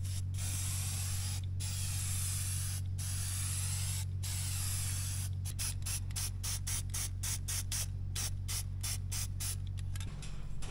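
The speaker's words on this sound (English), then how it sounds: "throw some spray paint on it" A spray paint can hisses in long continuous blasts onto Unistrut in a shop, then in a quick series of short sprays, over a steady low hum.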